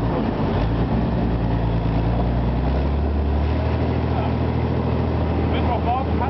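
Inside a BVP-1 tracked armoured vehicle on the move at Podbiel, a loud, constant engine roar and low rumble fills the cabin, with a dense mechanical drone throughout and voices talking beneath it.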